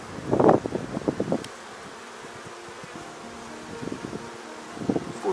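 Honeybees buzz during a beehive inspection, with bursts of nearby wing noise over a faint steady hum, coming in clusters at the start and again toward the end.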